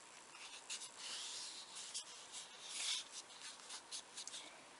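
A sheet of paper about 12.5 by 9.5 cm is folded in two, giving soft, close rustling and creasing sounds with faint scraping, quiet throughout.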